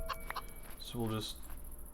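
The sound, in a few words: chickens clucking in the video game Minecraft Dawncraft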